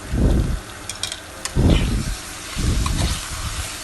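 Chicken washed with turmeric goes into a pan of sautéed aromatics for a Chettinad pepper chicken fry, giving three loud bursts of sizzling and stirring at regular intervals.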